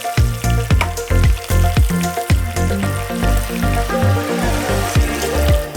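Chicken pieces fry loudly in hot oil for an Irani pola, a steady crackling sizzle broken by repeated sharp knocks and scrapes as the pieces are turned over in the pan.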